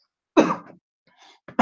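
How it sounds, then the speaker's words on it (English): A single sharp cough bursts out close by, followed by a softer throat-clearing rasp and a brief breathy sound. "Made me cough now, yep."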